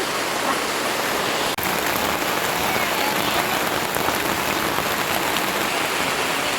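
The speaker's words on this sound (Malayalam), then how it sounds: "നല്ല മഴയാട്ടോ" Heavy rain pours steadily at a poultry farm, a dense, even hiss of drops hitting surfaces with no pauses, loud and close throughout.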